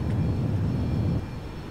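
Boeing 737-800 engines roaring at full takeoff thrust during rotation in the X-Plane 11 flight simulator, a loud, steady low rumble that drops off slightly near the end.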